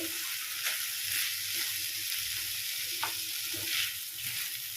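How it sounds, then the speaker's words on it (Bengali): Paneer pulao ingredients frying in ghee over a medium flame, giving a continuous close sizzle with a few soft stirring taps, no voices. "এবারে ভালোভাবে ভেজে নিচ্ছি চারটা ঘির মধ্যে"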